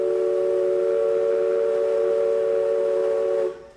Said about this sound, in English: Stand by for whistles, Captain. Ready for whistles?